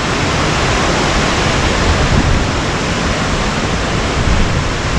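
Loud, steady rushing water of Ketchikan Creek in Ketchikan, Alaska roars without a break, a dense broadband wash like a fast-flowing creek heard close by.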